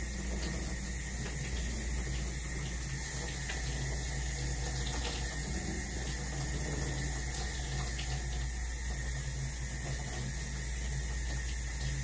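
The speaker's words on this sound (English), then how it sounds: "I will turn my water on" Sink tap running steadily at lukewarm for a denture care routine, a continuous even rush of water close by with no talking over it.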